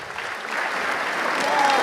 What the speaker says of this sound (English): this is applause for everyone